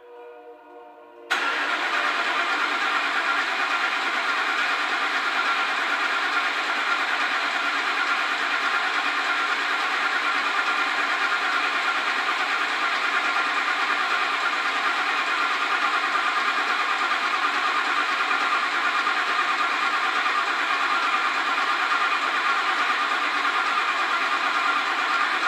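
A rebuilt Ford 5.4L engine held at wide-open throttle gives a short cranking sound, then catches and runs at a loud, steady, unbroken roar close by.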